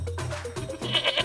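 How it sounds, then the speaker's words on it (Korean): A goat bleats loudly and close up, giving several quick, shaky cries one after another with no talking. "염소!"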